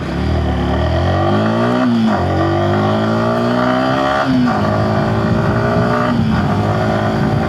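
A 2026 Yamaha R15 V4 motorcycle engine revs loudly and climbs through gears while being ridden, with rising whine, shift dips and constant close wind noise.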